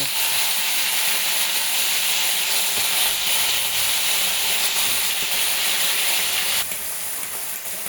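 Green chillies and brinjal pieces sizzle in a hot pan with a loud, continuous frying hiss close by. The hiss eases slightly near the end.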